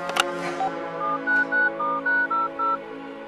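A telephone being dialed: after a brief click, a quick run of about eight loud, clean keypad tones sounds in steady succession, each short beep separated by a small gap.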